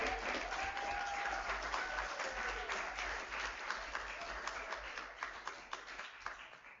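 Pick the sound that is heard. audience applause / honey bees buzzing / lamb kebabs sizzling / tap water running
audience applause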